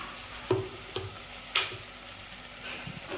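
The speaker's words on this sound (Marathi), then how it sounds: "मस्त असं फ्राय करून घ्यायचं, परतून घ्यायचं पेस्ट." Onion-coconut masala paste frying in oil and being stirred, a low hiss with a few sharp clinks and scrapes of a spoon against the pan, near but fairly quiet, no voices.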